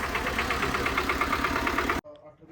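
A Swaraj 724 tractor engine idles with a steady, throbbing chug for about two seconds, then cuts off abruptly into near quiet.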